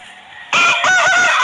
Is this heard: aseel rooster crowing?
yes